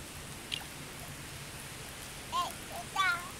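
Light rain falls in a soft, steady hiss at low level, with a couple of brief voices breaking through near the end.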